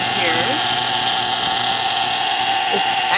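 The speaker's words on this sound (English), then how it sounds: "It's a little on the loud side, but it's a really strong motor." Vintage Nikola Tesla violet ray device from Switzerland with a strong, loud motor, whining steadily and continuously up close, with a voice speaking over it.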